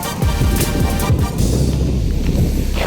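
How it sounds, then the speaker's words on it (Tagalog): Strong wind roars steadily against the microphone at a beach on Manila Bay, a loud continuous rumble with gusting swells and no talking. "medyo malakas yung hangin ngayon"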